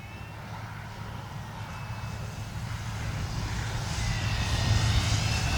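Flex Innovations RV-8 G2 Blue Knight RC plane in flight: a buzzing electric motor and propeller drone swells gradually louder as it nears, with a faint pitch-shifting whine sweeping through, no talk.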